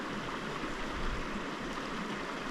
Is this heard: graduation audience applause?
no